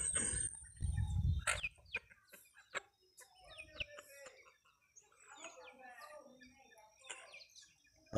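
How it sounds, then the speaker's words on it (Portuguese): Chickens clucking in a backyard on a morning by a fire, scattered soft clucks and chirps at moderate distance after a brief burst of rumbling noise, with a person speaking nearby. "Olha lá as galinhas."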